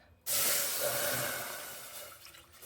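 Tap water runs in a steady hissing stream into a pot on a stovetop while making chicken bouillon soup, starting abruptly and continuing close and loud, then tapering slightly.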